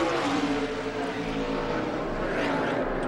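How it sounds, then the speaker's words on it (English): A race car at a 2002 Busch North stock car race at a short track, its engine roaring loud and continuous from on board as it downshifts into second gear for a right-hand corner. "Downshift into second gear right here."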